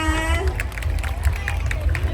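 Loud audience applause at a Thai stage event, a dense and steady clapping from a crowd with cheering and a brief voice mixed in near the start.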